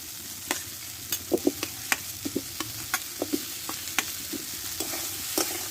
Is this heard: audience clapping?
no